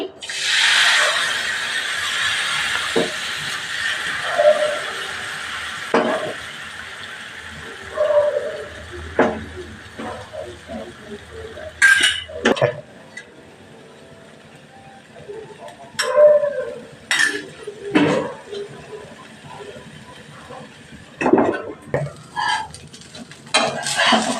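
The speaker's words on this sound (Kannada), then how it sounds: "ರಾಗಿ ದೋಸೆ ಹಾಕ್ತಿದ್ದೀನಿ" Ragi dosa batter cooks on a hot pan with a soft hiss near the start, then scattered clinks and scrapes of a spatula and pans, with a faint voice at times.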